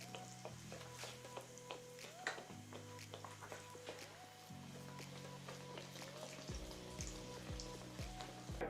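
Chinese fried dough sticks (youtiao) frying in hot oil for jian bing, a soft steady sizzle with scattered pops and crackles, fairly faint, beneath a sustained musical backing tone.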